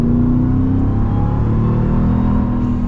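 A 2024 Ram TRX pickup's engine revs hard under heavy acceleration, a loud, close, continuous low roar with a steady drone that holds for the whole stretch with no talking.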